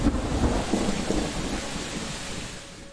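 Steady rain with low rumbling thunder fills the air in a continuous, fairly loud wash, the rumble swelling early and easing off slightly toward the end, with no voices.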